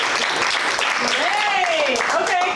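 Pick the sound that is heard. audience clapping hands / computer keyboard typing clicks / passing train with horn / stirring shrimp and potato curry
audience clapping hands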